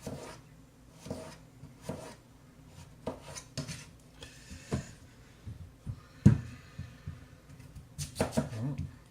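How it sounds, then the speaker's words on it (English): Potatoes are chopped on a board for crockpot scalloped potatoes, giving irregular knife strokes and scraping rasps with pauses between bursts, close by, while a person talks at times. "just gotta keep chopping until you get as much potatoes in as you want."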